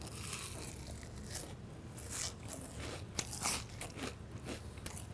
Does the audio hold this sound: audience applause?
no